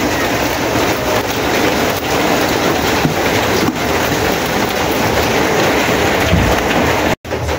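Steady, dense rainfall pours down close by, a loud continuous hiss that fills the whole stretch with only a brief dropout near the end.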